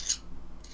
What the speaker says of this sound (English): it really is no more than a little bit of a gentle scrape